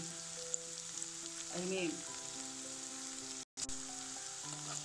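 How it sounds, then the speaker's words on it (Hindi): Garlic and chili frying in oil without salt give a steady, close sizzle throughout, with a short spoken word briefly heard over it. "एखन बिना नून के हम एखन भूज रहल छी"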